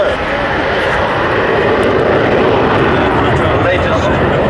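Harrier GR5 jump jet at the Great Warbirds air show at West Malling in 1990, a loud continuous broadband engine roar filling the clip while a commentator talks over it.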